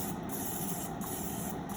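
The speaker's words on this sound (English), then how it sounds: "I'm going to spray with nonstick." Nonstick cooking spray hisses steadily from a can onto a muffin tin, a close, continuous spray lasting under two seconds.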